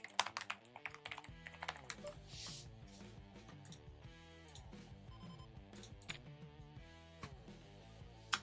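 Keyboard typing at a computer during an online poker session, quick irregular clicks running through most of the stretch over a dense musical background, moderately faint and partly masked.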